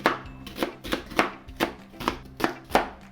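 A knife chops fresh onion on a cutting board in eight or nine evenly spaced, close thuds, each with a short crisp slice, and no voice.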